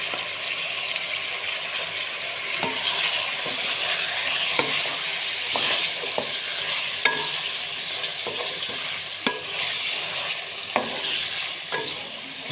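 Potatoes frying on a low flame with tomatoes and green chilies added, a continuous moderate sizzle with scattered clicks and scrapes of stirring, no speech.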